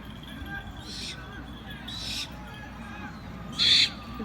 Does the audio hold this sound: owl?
yes